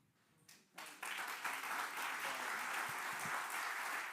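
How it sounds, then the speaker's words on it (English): An audience at a 2024 presidential election democracy program breaks into applause, faint at first and then swelling after about a second into steady, full clapping that carries on to the end. "Another round of applause for them visiting here."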